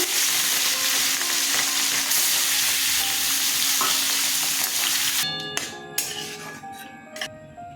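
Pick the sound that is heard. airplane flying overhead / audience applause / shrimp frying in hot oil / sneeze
shrimp frying in hot oil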